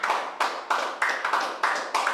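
Congregation clapping hands in unison during a lively evangelical worship service, a steady rhythmic run of sharp, close claps with no talking.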